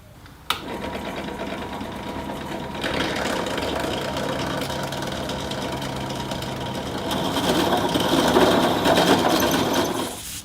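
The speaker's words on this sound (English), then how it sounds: "what we're going to do is drill it out up to 14 millimeters" A power drill whines steadily as it bores a 14 mm hole into metal, the motor pitch rising and growing louder toward the end.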